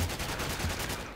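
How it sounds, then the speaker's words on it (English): Rapid automatic fire from an M249 machine gun in the video game Call of Duty: World at War, a dense, loud burst of rounds rattling continuously. "M249. Oh, yeah, right, machine gun."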